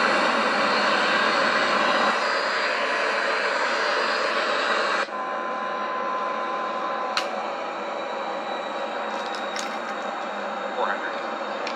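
A Boeing 737-800 in Microsoft Flight Simulator X runs its jet engines at full takeoff thrust as a dense, continuous roar whose tone shifts partway through, with a few short electronic beeps and tones on top and speech heard at times.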